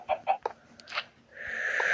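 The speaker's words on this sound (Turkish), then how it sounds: "Çık tavuk çık." Chicken clucking in Minecraft, a few short, quick clucks followed by a longer, louder squawk, close and clear against a quiet background.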